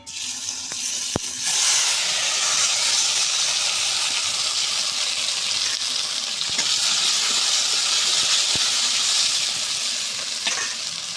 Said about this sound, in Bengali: এর মধ্যে গরম মশলা, মানে দারচিনি, এলাচ, লবঙ্গ ভেজে সব এখন দিয়ে দিচ্ছি।